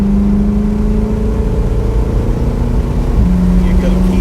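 A Ferrari 488 GTB accelerating on a race track at Autobahn Country Club, its engine note a loud, steady drone rising slowly in pitch before a brief dip at a gear change, heard from inside the car.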